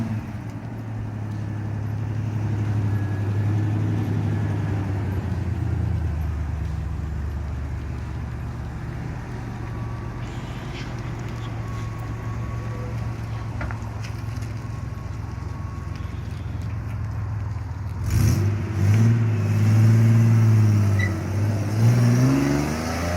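A modified 1966 Opel Rekord drives on a test run, its engine a steady low drone close by with road rumble, swelling louder near the end as it passes or accelerates.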